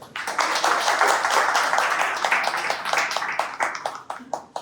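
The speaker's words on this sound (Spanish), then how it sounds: "Un aplauso" An audience welcomes a speaker at a digital security and AI event in Ecuador with a dense wash of applause that holds steady, then thins into scattered individual claps near the end.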